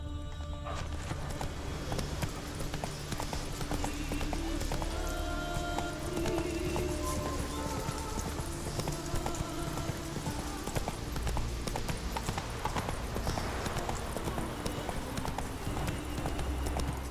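Roach, a horse in The Witcher 3: Wild Hunt, gallops in steady rapid hoofbeats over a dense bed of game music and ambience, with a brief whinny amid the continuous clip-clop.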